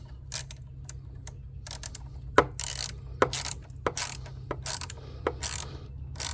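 A ratchet with an 8mm socket snugs down a car battery terminal on a Lincoln MKT, giving sharp, rapid clicking bursts in several short strokes at close range, separated by brief pauses over a low background hum.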